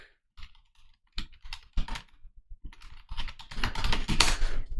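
Fingers type on a computer keyboard in irregular bursts of close, crisp key clicks that quicken into a denser clatter toward the end.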